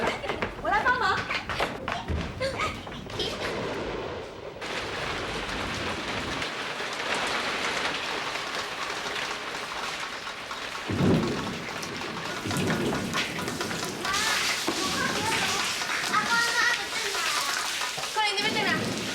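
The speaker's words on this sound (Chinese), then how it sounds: "打雷下雨了" Heavy rain pours steadily in a thunderstorm, with deep thunder rumbles and thuds rising through the downpour while voices talk in the background.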